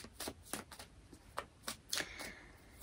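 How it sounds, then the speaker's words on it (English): Tarot cards being shuffled and drawn for a reading, a series of soft, quick riffling and flicking bursts spaced irregularly, close and fairly quiet with no talk. "I'm going to pull 3 cards"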